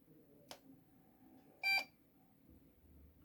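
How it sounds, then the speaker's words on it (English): A Lenovo ThinkCentre M93P desktop PC with a no-display fault trying to power up: a soft click, then a single short electronic beep, followed by a faint low hum as the machine cycles, in a quiet room. "so it attempts to power up, one beep, and then it recycles"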